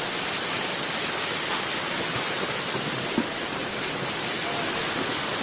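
Steady broadband rush of waterfalls and heavy rain on the Kalsubai mountain trek, a continuous even wash of falling water with no talk and one brief small knock partway through.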